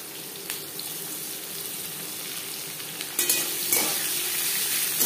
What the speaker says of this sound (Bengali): 15-20 সেকেন্ড 5 ফোড়ন ভেজে নেওয়ার পর দিয়ে দেব পেঁয়াজ কুচি।